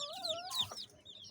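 A young Aseel chicken clucks and peeps in a short, faint burst of a few rising and falling calls, close by in an otherwise quiet yard.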